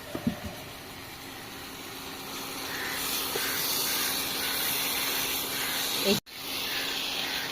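Mutton fat dropped into hot cooking oil gives a steady, moderately loud hiss and sizzle that runs for several seconds, with a few small knocks at the start and a sharp break near the end.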